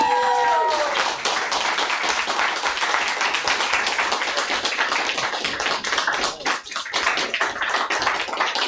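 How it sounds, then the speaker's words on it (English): Audience applause for poets at a San Fernando Valley poetry reading, dense clapping from a small crowd that starts after a brief tone and carries on for several seconds, close and fairly loud. "Round of applause for all our poets tonight."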